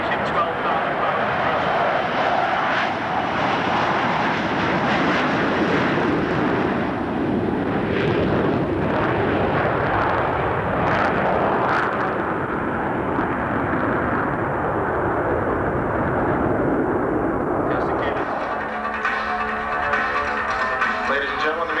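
A four-engine aircraft with four Rolls-Royce turbofans rolls down the runway at a 1994 Midland, Texas air show, a loud sustained roar with rumbling gusts, while a voice talks over the engines.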